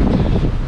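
Wind buffets an outdoor microphone in Lisbon, a steady low rumbling roar filling the short moment with no speech.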